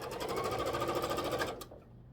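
A sewing machine chain piecing quilt rows, running in a rapid, even stitching rattle up close for about a second and a half before stopping abruptly.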